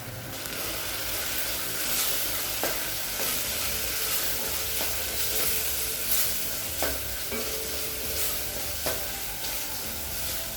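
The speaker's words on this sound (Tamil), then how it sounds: "இப்போ மிளகாத்தூள் வாசனை போக 1 நிமிஷம் வரைக்கும் நல்லா வதக்கியாச்சுங்க" Chili powder, turmeric and coriander powder being stirred and fried with tomatoes in a pan for soya chunk gravy, a steady close sizzle broken by repeated scraping spatula strokes, no voices.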